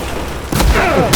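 Two heavy blasts from Battlefield 4 gameplay in a city battle: a deep, loud boom followed half a second later by another sharp burst, set against steady combat noise.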